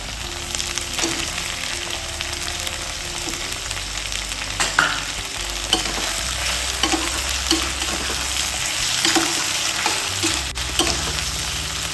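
Green chili paste and tomato fry in oil for a spicy boal fish curry, making a constant close sizzle with stirring scrapes and occasional clatters of a spatula against the pan.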